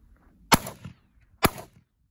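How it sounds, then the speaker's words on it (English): A Stevens 555 over-under shotgun fires outdoors: two sharp, loud reports about a second apart, each dying away quickly into quiet. "He's gonna take a shot for us here. First time ever shooting an over under barrel."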